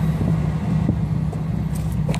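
A 1995 Toyota Supra, naturally aspirated with a GTE ECU mod and VVTi coils, drives with a steady low engine drone and road rumble that hold at an even, fairly loud level throughout, with no voices.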